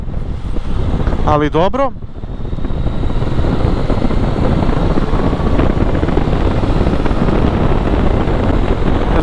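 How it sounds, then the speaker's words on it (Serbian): Strong wind roars continuously over the rider of a 2018 Yamaha MT-09 Tracer motorcycle at speed, a loud broadband rush that barely lets up, with a short spoken phrase near the start. "to što me zvekeće vetar u lice"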